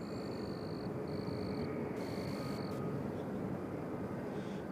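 A United airliner arriving at Nashville International Airport on the far runway, a distant, steady broadband engine roar with faint tonal whine, no talk.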